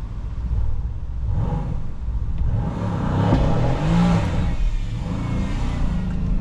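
Mercedes-Benz car doing a launch control start, a loud engine revving and accelerating in a rising, steady roar close by.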